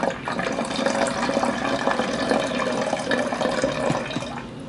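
Water pours steadily into a bottle at close range, a continuous gurgling splash that fades slightly toward the end.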